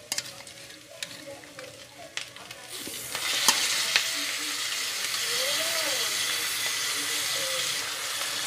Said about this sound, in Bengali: এবার আমি ভিজিয়ে রাখা পনিরটা আস্তে আস্তে এর মধ্যে ছাড়ব